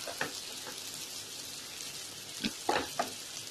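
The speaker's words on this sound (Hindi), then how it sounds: "और अच्छे से सॉटे करते रहना है।" Bitter gourd and onion sauté in a pan with a soft, steady sizzle and a few scraping stirs near the end, close and fairly quiet, with no one talking.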